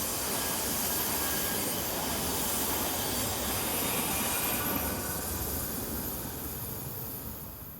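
Two coupled electric multiple-unit sets (007 and 005) roll in on a local service from Bern to Domodossola, a loud continuous rumble with hiss and wheel squeal that slowly fades as the train slows, no voices.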